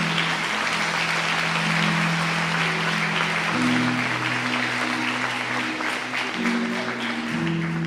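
A church congregation applauds continuously, a dense steady clapping throughout, with a sustained musical tone droning underneath.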